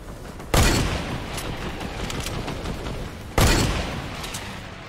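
Two sharp gunfire bursts in a Fortnite duos match, the first near the start and the second a few seconds later, each a loud crack that decays into a steady noisy game backdrop.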